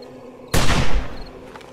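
Rapid gunfire in the 7 Days To Die video game as a player shoots zombies during horde night, a loud sudden burst of overlapping shots that rings on and fades over about a second.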